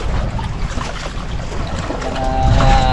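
A motorboat engine drones steadily at about 10 knots on the sea under rushing wind and splashing water, with a low rumble that swells louder toward the end.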